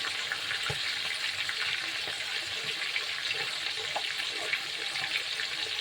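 Garlic frying in hot oil, a steady, dense sizzle and crackle that holds at an even level throughout, close up with no talking.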